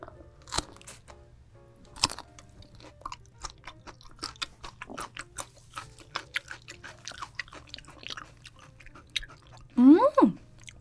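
Close, crisp chewing and crunching of toshi seaweed in a Korean seafood mukbang, bites repeating steadily in the foreground, with a short burst of voice near the end.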